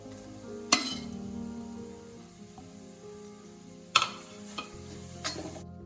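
Banana flower thoran with crushed garlic, curry leaves and grated coconut being stirred in a pan, with a couple of sharp utensil clinks and soft scraping over a faint background sizzle.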